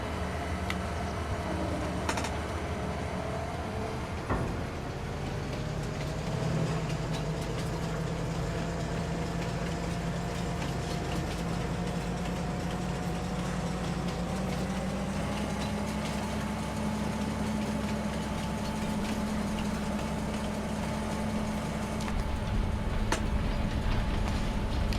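A train engine in Farming Simulator 25 rumbles steadily for a long stretch, a low droning idle with a hum that slowly rises in pitch and occasional faint clanks.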